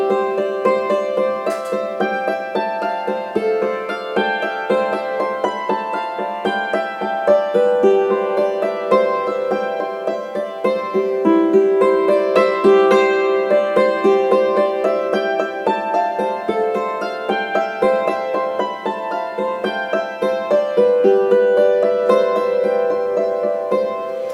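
Hammered dulcimer playing the Irish song In the Sally Garden, its melody woven through flowing arpeggios; bright struck strings ring on continuously for the whole passage with no talking.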